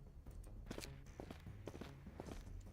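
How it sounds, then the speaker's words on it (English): Footsteps in the game Library of Ruina, a quiet series of irregular steps approaching over a low background hum. "Their footsteps are getting closer."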